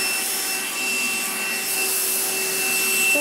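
A household vacuum cleaner runs steadily and close, a constant whining drone with a bright tonal hum and airy rush that never lets up.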